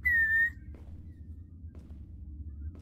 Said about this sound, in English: What if I use the whistle right now?